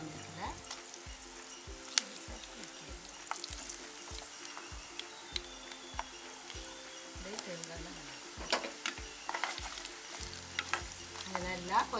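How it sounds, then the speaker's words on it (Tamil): Moringa drumstick pods deep-frying in hot oil, a busy continuous sizzle with crackles and pops throughout and regular tapping knocks in the background, fairly quiet and close. "இப்போ நாங்கள் எண்ணெய் கொதிச்சா பிறகு இதை பொரிச்சு எடுக்கிறோம்"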